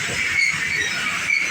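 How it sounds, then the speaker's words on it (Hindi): A Karachi Circular Railway (KCR) train pulls out of Landi station, heard from on board as a loud, steady rolling rumble with a high hiss and faint wheel squeal. "KCR लांडी से डिपार्ट हो रही है।"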